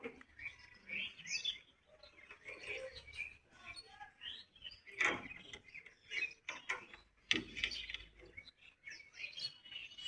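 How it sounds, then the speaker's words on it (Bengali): Many birds chirp and twitter in a bamboo thicket beside a house in Rangpur, quick bright calls in irregular bursts, some near and some farther off, with faint talk in between. "শুনতেই পাচ্ছেন পাখি কত সুন্দর ডাকছে।"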